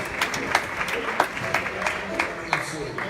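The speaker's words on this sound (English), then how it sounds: "a round of applause for him." Scattered audience clapping at a jazz performance, a moderate round of applause with individual claps audible, steady for a few seconds.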